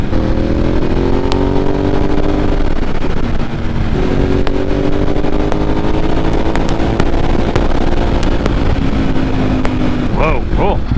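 A Ducati 1098S motorcycle engine runs steadily while riding, with rising and falling harmonic tones as it shifts and revs and a rattly dry-clutch drag underneath, loud and close under a rider's voice.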